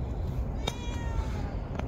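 A cat meows a few times, short and fairly close, over a steady low background hum.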